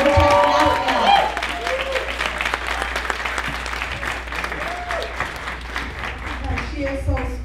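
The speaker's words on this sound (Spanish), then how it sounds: "Un fuerte aplauso" Loud applause from the audience at a gala awards inauguration, a crowd clapping steadily with sharp claps throughout, while voices and cheers rise over it at several moments.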